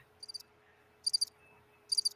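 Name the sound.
crickets chirping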